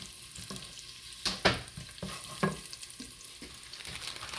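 Chopped onion and green chili fry in a pan, giving a low sizzle broken by several scraping and knocking sounds as a spatula stirs, close up and fairly quiet, with no talking.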